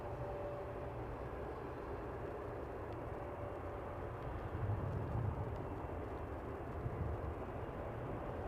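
A Jazz CRJ-900 regional jet lining up on the runway at Toronto Pearson hums with a low, steady, distant engine drone, fairly quiet and even throughout, without voices.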